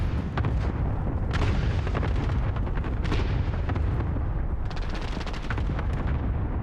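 Call of Duty Modern Warfare multiplayer battle: dense rolling blasts from grenade explosions layered with sharp bursts of gunfire, loud and continuous, with repeated heavy booms throughout.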